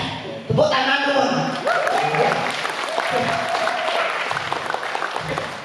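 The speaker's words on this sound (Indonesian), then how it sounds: "Tepuk tangan dulu." A crowd applauds a Balinese drama gong stage performance with sustained clapping while voices speak and call out over it.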